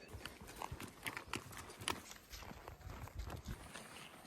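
Horse hooves clip-clop at a walking pace in Mongolian pasture while herding, uneven close thuds on the ground with light rustling in between.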